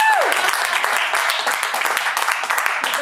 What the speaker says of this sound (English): let's give a round of applause for Taylor not being here tonight